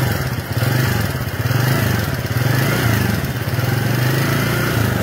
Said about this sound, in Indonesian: Wah, itu dia bunyi knalpotnya nih.